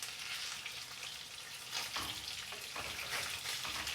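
Fish frying in a pan, a close steady sizzle with crackling bursts as the pieces are flipped, with no talk.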